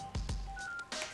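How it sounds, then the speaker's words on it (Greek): Quick keypad dialing tones from a U80 smartwatch entering a phone number: two short beeps in close succession, then a longer held tone and a final beep, all faint and close by, with no talking. "μπορούμε τώρα αυτή τη στιγμή να πάρουμε τηλέφωνο πληκτρολογώντας από εδώ κανονικά"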